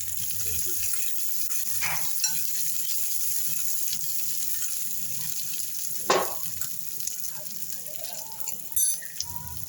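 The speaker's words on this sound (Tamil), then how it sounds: "கொஞ்சம் சின்ன வெங்காயம் போட்டோன்னா கொஞ்சம் பூண்டு நல்லா வதக்கிக்கலாம்" Shallots and garlic frying in oil in a pan with mustard seeds and chana dal for a tempered yogurt dish, a steady soft sizzle throughout with a few brief stirring scrapes and clinks.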